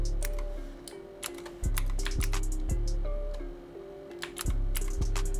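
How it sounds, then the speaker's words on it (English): Keys clatter on a computer keyboard as a URL is typed, a rapid run of light, close clicks in short irregular bursts. A steady low hum from the room sits beneath, with brief thumps here and there. "Okay, so I'm gonna go and type the URL here"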